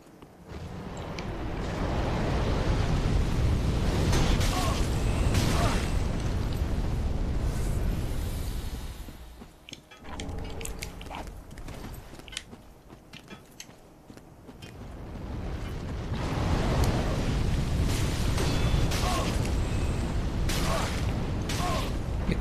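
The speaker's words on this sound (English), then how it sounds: "there'll be dragon fire in our way" Dragon fire in Dark Souls 3 roars in long rushing bursts, loud and heavy, fading to a quieter lull in the middle before the blast returns at full force.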